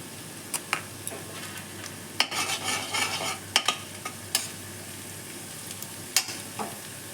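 Nigella seeds scatter over onions frying in a pan, a soft steady sizzle punctuated by sharp scraping taps of a spatula stirring at an irregular rhythm.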